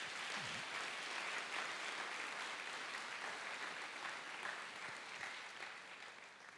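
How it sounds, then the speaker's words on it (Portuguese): A church congregation applauds in a dense, steady wash of clapping during a Portuguese-language evening service, holding strong throughout before easing slightly at the end. "vamos dar um aplauso ao Senhor"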